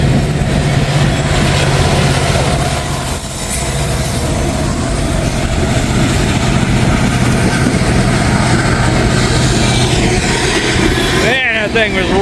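EMD SD70 diesel locomotive roaring past at close range while hauling a long freight train, a steady loud rumble with rolling wagon noise and a brief squeal near the end, heard beside the track during severe weather.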